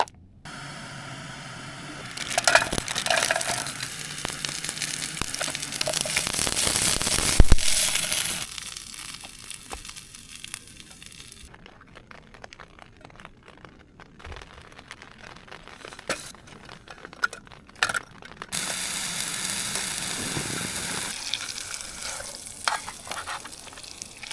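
Broccoli, carrot and mangetout fry and sizzle in a small pan at a solo wild camp at Monsal Head, with stirring scrapes, crackles and rustling handling noises coming and going, close and fairly loud.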